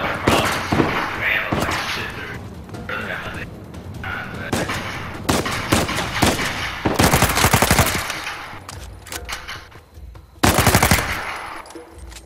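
Rapid Uzi bursts and gunfire in the video game Uncharted 4 crackle in loud, dense volleys with short pauses between them, while people talk over the shooting.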